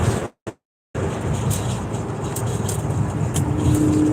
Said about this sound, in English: Oh my God, we're actually driving.